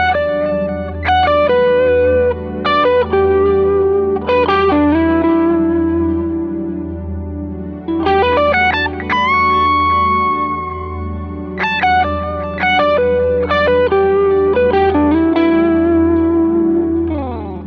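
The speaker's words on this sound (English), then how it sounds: "you can combine chord tones and string bending to achieve a sound a little bit like this" Blues lead on an electric guitar combines chord tones with string bends, played through effects with distortion and chorus: clusters of picked notes and bent, sustained tones in phrases with short pauses, loud and close with no talking.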